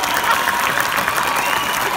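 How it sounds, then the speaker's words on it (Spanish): A crowd at a carnival gala in Arucas applauds a drag performer, dense continuous clapping close and loud throughout. "Fuerte el aplauso para él."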